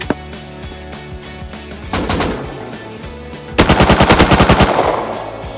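Automatic gunfire in the survival game Rust, with rapid bursts of shots crackling loud and close, a first volley followed by a denser, heavier burst near the end.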